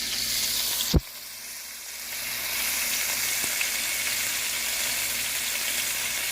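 Flour-coated beef cubes for stew frying in a pan give a steady close sizzle, with a sharp clack near the start and soft stirring noises afterward.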